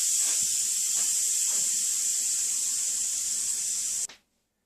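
Steady, loud hiss of steam venting from an Instant Pot pressure cooker as it depressurizes after cooking white rice, a continuous spray that cuts off abruptly near the end, followed by near silence.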